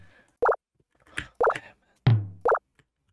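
A kick drum sample plays in a digital audio workstation as a few short, punchy, dry hits spaced across a few seconds, with one longer, deeper thump in between.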